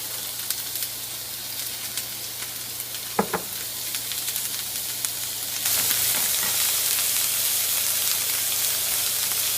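Onion and garlic sauteing in a little olive oil, a steady close sizzle that swells louder partway through after a couple of stirring clatters.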